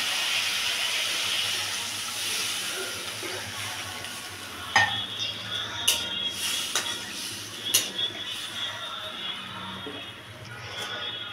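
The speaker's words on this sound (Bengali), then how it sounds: "এবার এর মধ্যে দিয়ে দেবো জল" Water is poured into a pan of fish head curry on the stove, with a steady hiss and sizzle broken by a few sharp clinks and scrapes of a utensil against the pan.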